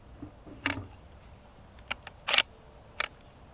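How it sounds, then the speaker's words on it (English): A rifle bolt drawn back with the charging handle, giving a few sharp metallic clicks and clacks at close range, separated by quiet pauses. "So now I'm going to pull the bolt to the rear using the charging handle."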